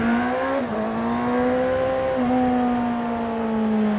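A Honda CBR600RR motorcycle cruises in third gear on a road, its engine holding a steady, loud drone that dips briefly and then climbs again, with no talk.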